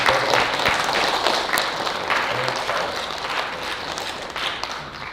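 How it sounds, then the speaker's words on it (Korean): A church congregation in a Korean Baptist church in Tampa, Florida claps loudly for visiting guests, a dense, continuous wash of applause from the whole room that fades slightly toward the end. "크게 박수하면서"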